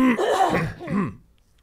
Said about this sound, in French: Je vais tousser une bonne fois pour toutes.